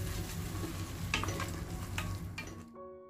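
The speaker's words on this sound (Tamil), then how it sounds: "அரைச்சி ரெடி பண்ணி வச்சுருக்க மசாலா பேஸ்ட்டை ஆட் பண்ணி மசாலாவோட பச்சை வாசம் போகிற அளவு 10-15 நிமிஷம் நல்லா வதக்கி எடுத்துக்கோங்க" Masala paste and tomatoes for village-style mutton curry sauté steadily in a pan, a dense continuous sizzle with a few sharper stirring scrapes, close and loud, ending abruptly.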